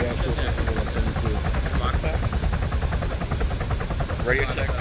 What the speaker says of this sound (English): Doesn't matter which Chinook or ride we get in